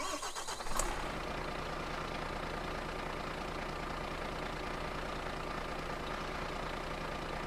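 Volvo FH16 truck in Euro Truck Simulator 2 cranking briefly, then settling into a steady low diesel idle that drones on evenly and loudly.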